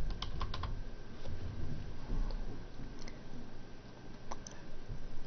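Arrow keys tapped on a computer keyboard, a run of quick light clicks in irregular bursts, close but soft over a steady room hiss.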